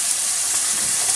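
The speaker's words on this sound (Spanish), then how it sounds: "le vamos a ir echando el ajo y la cebolla" Garlic and onion hitting hot oil in a frying pan, making a steady, loud, close sizzle with no break for about a second.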